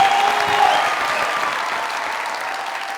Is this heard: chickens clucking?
no